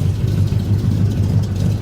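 A 1982 Chevy fitted with a Corvette engine idles steadily once warmed up, a close, continuous low rumble with no talk over it.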